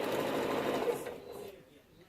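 A sewing machine stitching a glittery quilt with a quarter-inch seam, whirring briefly up close before slowing and fading out.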